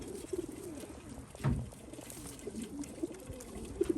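Pigeons of various colors, including whites and tiger grizzles, coo softly and repeatedly in a loft, with low overlapping calls rolling on steadily throughout.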